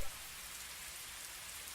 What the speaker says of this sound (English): I'm already in the rain!